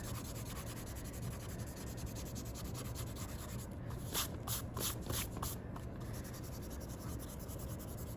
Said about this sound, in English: you can just erase your pencil lines.